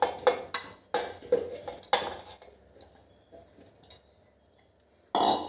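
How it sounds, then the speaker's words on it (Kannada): Cleaned amla gooseberries drop into a steel mixer grinder jar in a home kitchen. A quick run of hard clinks and knocks comes close up, then a quiet pause before one final loud clatter. "ಪೂರ ಕ್ಲೀನ್ ಮಲ್ದನ ನೆಲ್ಲಿಕಾಯಿನ ಮಿಕ್ಸಿ ಜಾರ್ಗೆ ಪಾಡ್ದು"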